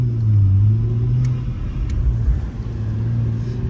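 A car cruising on the road with a steady low engine rumble and slight rises in revs, close and continuous, with no talking.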